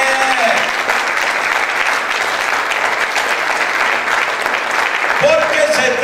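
Congregation applauding for the Lord at an evangelical church service, sustained steady clapping filling the room throughout, with a voice briefly heard at the start and end.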